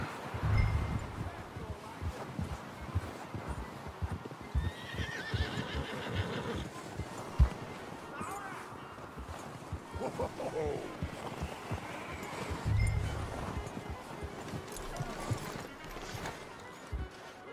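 Horses in Red Dead Redemption whinny loudly twice and clip-clop steadily as riders hitch up in the Old West, with people talking over the hooves and neighs.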